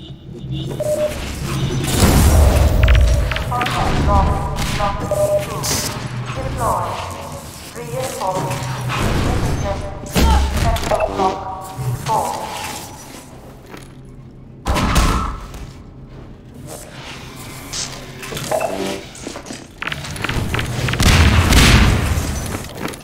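Booming rocket explosions and weapon fire in the video game Half-Life 2 Deathmatch, heavy thuds and blasts recurring over many seconds amid continuous game noise, with players talking over the action.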